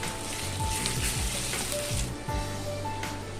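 Ginger garlic paste and turmeric frying in hot oil for a gravy curry, a continuous loud sizzle with crackling pops and occasional spoon scrapes against the pan.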